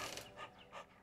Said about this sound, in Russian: А кто там этот лает или что дышит? А, собака?